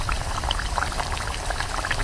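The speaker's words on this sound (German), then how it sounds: "Ach, du frittierst die Pommes tatsächlich." French fries deep-frying in hot oil inside a camper van give a dense, continuous sizzle and crackle, close and fairly loud with no pauses.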